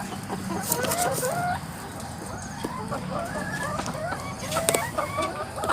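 Several laying hens cluck steadily and close by at a farm, with overlapping clucks and short calls throughout and no talking.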